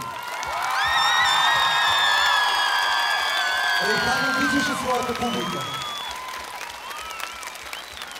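Audience applause and cheering at a concert for a singer, a loud sustained wash of clapping joined by whoops, with a voice speaking over it and a lower chant-like murmur swelling midway.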